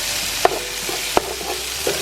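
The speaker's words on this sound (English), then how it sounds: "Stir up sausage and veggies." Sausage and vegetables sizzle in a pan under a soft, steady fry, with two sharp knocks of a spoon against the pan during stirring and fainter scrapes between them, close and without speech.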